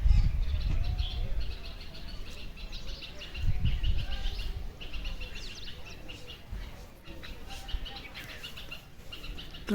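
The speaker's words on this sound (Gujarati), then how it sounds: "પંખી અહીંયા કલબલાડ કરે છે" Many birds chirp and twitter continuously in the morning at a moderate distance on a hill, with low rumbling background noise and occasional louder calls throughout.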